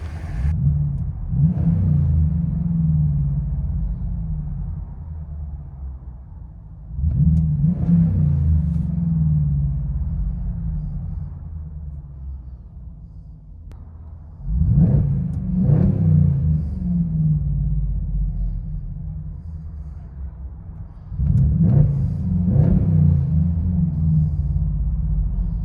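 Inside the cabin of a 2022 Jeep Wagoneer with a 5.7L HEMI V8 and true dual exhaust: a steady low rumble at idle, broken by four revs that swell into a deep, throaty surge and then fall back, with no talking.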